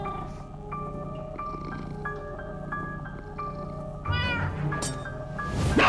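A cat meows repeatedly in the Minecraft: Story Mode video game, a run of loud, close meows over a steady game music bed, ending in a harsher yowl.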